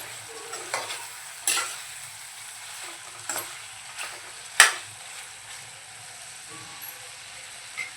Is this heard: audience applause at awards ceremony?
no